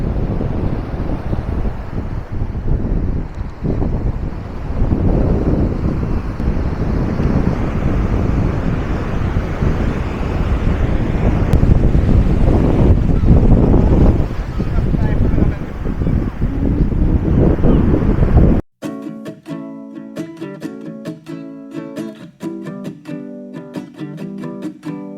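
Sea waves and wind at Old Digha beach make a loud, steady roar of surf and rushing air for most of the stretch before music abruptly takes over near the end.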